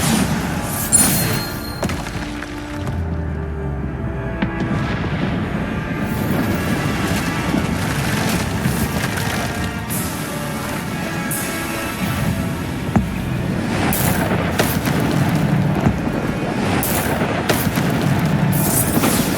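Spell blasts from the Bombarda explosion spell in Hogwarts Legacy, repeated dull booms and thuds scattered across a long stretch of combat noise, moderately loud with no talking.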